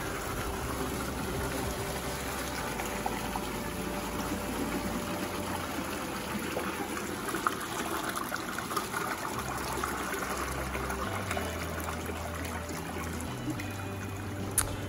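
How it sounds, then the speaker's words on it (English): Water flows and trickles steadily through the chamber of a Nexus 310 koi pond filter, a soft continuous gurgle with a low hum underneath, fairly quiet and close. "the water fills the inner chamber first, and then it goes through the middle pipe"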